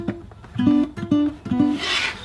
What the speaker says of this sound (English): I kind of mute them a little bit and then do a finger roll